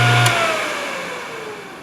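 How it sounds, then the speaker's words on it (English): A Thorvie AV-40 sharpening machine's motor runs briefly, a steady mid-pitched whine that slowly winds down, with a sharp click near the end. "I like to turn the motor on and then turn it off and give one light test grind"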